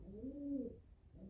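A single racing pigeon gives one soft, rounded coo that swells and fades within about a second, faint against a low background hum.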